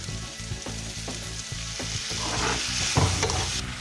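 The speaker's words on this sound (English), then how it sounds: "Stir fry for another 30 seconds and then it's done." Pineapple prawn balls stir fried in a pan, a loud continuous sizzle with rhythmic scraping strokes of a spatula, close and without talk.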